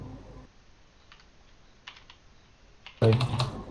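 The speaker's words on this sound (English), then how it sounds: "what are you typing?" Fingers tap on a computer keyboard while someone tries out Python, a few faint scattered keystrokes followed by a sudden loud burst of rapid typing near the mic, with no talk.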